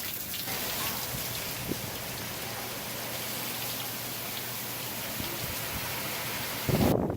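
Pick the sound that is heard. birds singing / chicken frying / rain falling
rain falling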